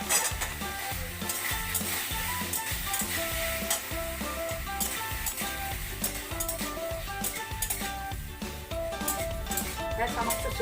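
Boiled potatoes fry in a pan for potato chilli, a steady sizzle under repeated clinks and scrapes of a utensil stirring against the metal, with a person talking throughout.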